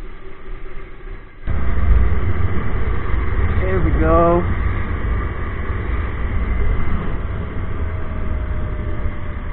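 A small 50cc scooter engine runs steadily nearby in lane-splitting traffic, a constant low buzzing drone that swells in after a quiet start, with a brief rising-and-falling tonal sweep passing partway through.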